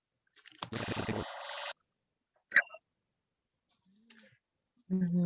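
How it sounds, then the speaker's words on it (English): Keyboard image converted to sound by The vOICe software: a burst of buzzy, harmonic tones sweeping for about a second, then brief scattered clicks and tones separated by silence, with a short spoken voice at the end. "this is what a keyboard is going to sound like"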